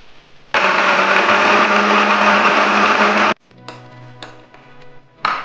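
A mixer grinder blends poppy seeds, green chillies and a little water into paste, a loud steady high whir for about three seconds that stops abruptly, followed by a few short clunks and a brief restart.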